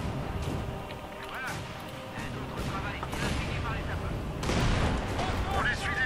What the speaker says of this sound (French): Voilà, le tir de suppression, vous voyez.